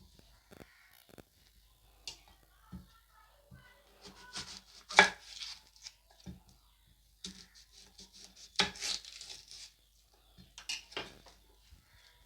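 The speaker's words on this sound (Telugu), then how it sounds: "ఇంకా పెద్ద సైజ్ ఆనియన్ అయితే కట్ చేసుకోవాలి" A knife chops through a large onion on a board for a dry fish curry, with irregular crisp chops, some isolated and some in quick bursts, close and moderately loud, with no talk.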